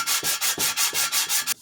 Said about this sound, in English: with a piece of glass and a sheet of sandpaper